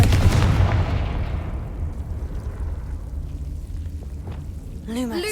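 A Confringo blasting spell bursts in the Hogwarts Legacy video game: one loud boom opens the clip and rolls off into a long, fading rumble, followed near the end by a brief chiming shimmer.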